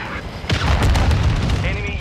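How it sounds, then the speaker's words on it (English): A friendly cruise missile strikes its target in Call of Duty: Modern Warfare II, a loud booming blast hitting at once and rumbling on under steady battle noise. "Friendly cruise missile approaching target."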